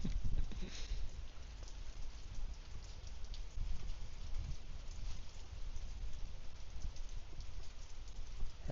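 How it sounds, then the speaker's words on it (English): Steady rain falling in Phuket near Bangwad Reservoir during a morning walk, a dense continuous hiss of drops with low rumbling texture, close and even throughout without speech. "the rain is very peaceful and romantic"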